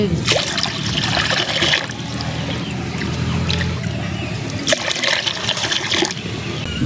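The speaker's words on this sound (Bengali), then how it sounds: "কড়াইতে এবার জল দিয়ে দেব।" Water gushes and splashes into a metal wok, in a couple of louder pouring bursts over a steady running trickle.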